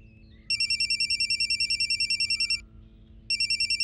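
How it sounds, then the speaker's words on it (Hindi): A mobile phone rings with an incoming call, giving a rapid warbling electronic ringtone in a two-second burst that pauses briefly and starts again, heard clearly over a low room hum. "किसी रेहान का कॉल आ रहा है।"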